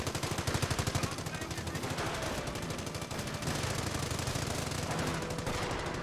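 Rapid sustained bursts of .30 cal machine gun fire from a Company of Heroes battle, loud and continuous with dense rhythmic rattling throughout, a faint voice murmuring underneath.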